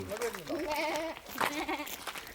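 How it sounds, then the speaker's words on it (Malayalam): Two goats bleat in wavering, nasal calls, heard close during a walk among tall trees in the Karnataka hills, with people's voices and outdoor noise mixed in. "രണ്ട് ആടുകളുടെ ശബ്ദമാണ് ഇപ്പൊ നമ്മൾ കേട്ടത്"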